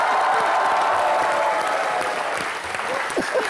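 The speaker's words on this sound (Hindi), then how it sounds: "श्रद्धा, सिद्धार्थ और रितेश के लिए जोरदार तालियां।" A television comedy show's studio audience breaks into loud, sustained applause, dense clapping that fills the room and carries on throughout with slight swells.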